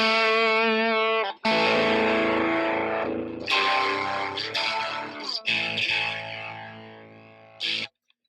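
Electric guitar through a single-channel Fender Blues Junior amp at low gain, giving a lightly overdriven tone: a sustained chord, then several strummed chords ringing loud and alone, ending in a cutoff.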